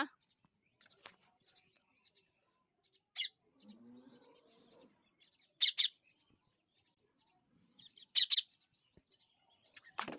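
A pet parrot in a home kitchen gives short, sharp calls and chirps in scattered bursts, with quiet pauses between and a voice murmuring softly in the background.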